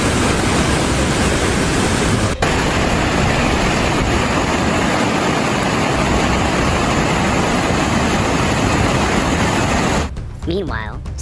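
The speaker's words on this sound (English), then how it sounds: "How about that river rampage?" A river in flood roars as a dense, continuous wash of rushing water, loud and unbroken throughout, with a brief voice near the end.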